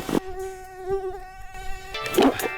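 Mosquitoes and other insects buzz close by on a catfish riverbank, a loud whining drone rising and falling in pitch as they fly past.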